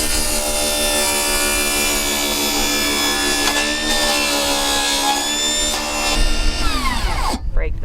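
A power saw cuts steadily through a wooden trim board in a bus conversion, with a loud continuous whine and rasp that shifts pitch near the end as the cut finishes and the blade spins down.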